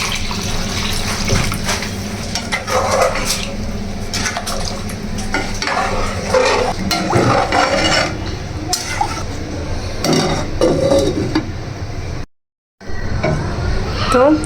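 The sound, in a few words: stirring khichuri in pot after adding hot water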